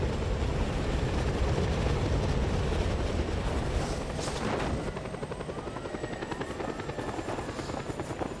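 A helicopter in the video game Just Cause 2 roars loudly and steadily with a dense rotor thrum and whine that continues without a break, and no voices.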